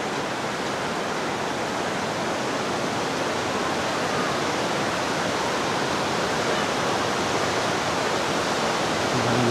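A small rainforest river in the Daintree rushes steadily beside a hanging bridge, a dense, continuous wash of flowing water that stays loud and even throughout with no voices.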